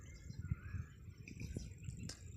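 Birds call faintly around a riverside village farm on a rainy-season day, a few thin chirps and tweets set over a low outdoor rumble.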